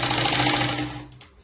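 Stitching a blouse sleeve, a sewing machine runs steadily at close range with a fast, buzzing rattle for about a second, then slows and stops.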